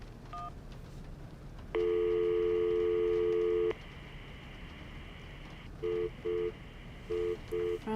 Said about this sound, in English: Phone's busy.